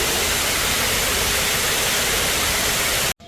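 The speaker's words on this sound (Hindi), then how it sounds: "पानी के झरने के ज़रिए इस इलाके को थोड़ा ठंडक पहुंचाने के लिए ये काम किया गया" Artificial waterfall at Al Khor Family Park in Qatar: a steady, loud rush of falling water that holds evenly for about three seconds and then cuts off abruptly.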